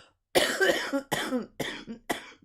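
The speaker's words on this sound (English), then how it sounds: "I just coughed." A run of four sharp coughs in quick succession, close and loud, with short gaps between bursts.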